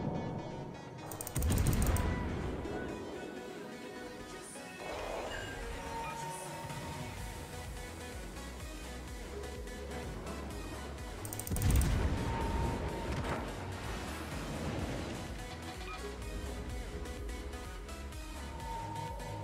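Naval gunfire in a World of Warships battle, with heavy booming salvos near 1.5 and 12 seconds over a dense, continuous din of game effects and distant fire.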